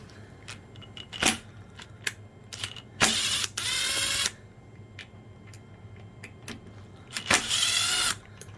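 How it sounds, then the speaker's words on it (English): The gearbox of a Makita 6013BR half-inch heavy-duty drill is pried open: scattered small plastic clicks and ticks, with a few short, harsh cracking or scraping bursts close by. "let's go ahead and pop this gearbox open."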